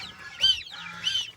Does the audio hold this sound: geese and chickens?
yes